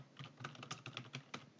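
Keys are tapped on a computer keyboard while editing an Excel spreadsheet, a short quiet run of about eight crisp, close clicks at uneven spacing.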